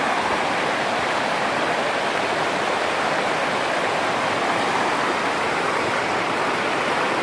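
Floodwater rushes in a steady, loud, unbroken roar after makeshift bamboo and sandbag embankments gave way and let water flow toward homes. It sounds close and continuous with no voices.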